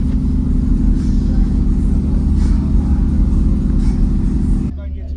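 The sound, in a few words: car subwoofer bass playing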